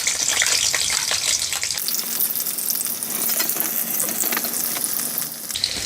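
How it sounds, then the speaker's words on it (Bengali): Chopped garlic sizzling loudly in hot oil in a wok, a spoonful dropped in with a sharp burst that settles into a steady crackling fry, stirred now and then, no talking. "এখন আমি দিয়ে দিচ্ছি এর মধ্যে রসুন কুচি 1 চামচ পরিমাণে"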